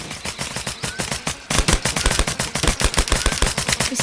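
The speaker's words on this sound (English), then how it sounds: "This kid is shooting at a tree." Rapid bursts of automatic gunfire from a shooter video game, loud and continuous with repeated rhythmic shots, growing more intense partway through.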